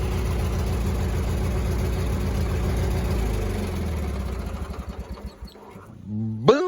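A warm small engine idles with a steady low rumble and fast rhythmic chugging, then is cut off near the end, the beat slowing and stuttering to a stop before a brief rising whine.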